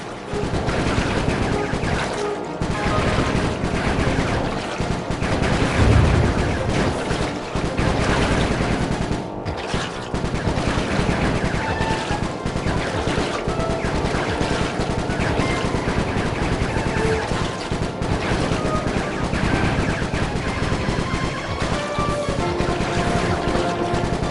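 Sly 3 video game gunfire crackles in a sustained, loud barrage of rapid shots and bursts alongside explosive game action, running nonstop for the whole stretch.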